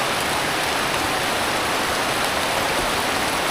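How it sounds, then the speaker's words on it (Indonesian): Heavy rain pours down beside a fast-flowing spring pool, a dense steady hiss of water that stays loud and unbroken from start to finish, with no voices over it. "Aduh, hujan deras."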